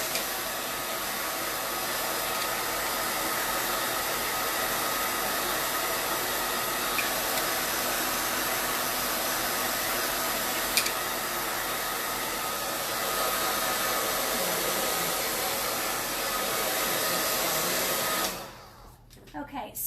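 A hair dryer on a warm setting blows steadily over chalk-painted pumpkins, a loud, close, continuous whoosh that runs for most of the stretch before switching off near the end.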